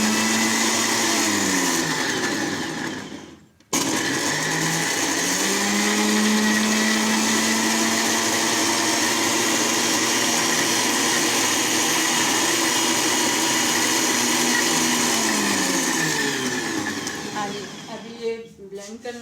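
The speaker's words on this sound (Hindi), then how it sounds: "अब इसको अच्छी तरह से ब्लेंड करेंगे।" An electric blender runs loudly and close while blending shawarma sauce with lemon juice, its motor whine rising and settling, with one brief stop near the start and a final wind-down before a few clinks.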